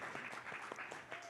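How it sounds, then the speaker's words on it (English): Brief, faint applause from a seated audience for a panelist, a quick patter of scattered claps over just over a second, distant and quiet. "Give Tatiana a big round of applause."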